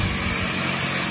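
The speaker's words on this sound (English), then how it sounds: "I like to drill a hole kind of straight down" Power drill boring a hole straight down into the roof of a hard-side pop-up camper during a homemade repair, a steady loud whine running the whole time with no talking.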